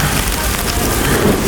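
Heavy rain pours down at an outdoor music festival in Miami, a dense, steady hiss of downpour that stays loud and even throughout, with no break or build.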